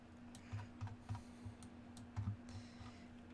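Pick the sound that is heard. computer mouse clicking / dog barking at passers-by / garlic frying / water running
computer mouse clicking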